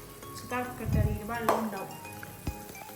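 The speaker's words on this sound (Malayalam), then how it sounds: "ഇനിയിപ്പോൾ അരിയിട്ട് കൊടുക്കാം" Rice is tipped into a cooking pot for ghee rice, with a short rattling pour and a few sharp metallic clinks of utensils against the pot, while a voice murmurs faintly in the background.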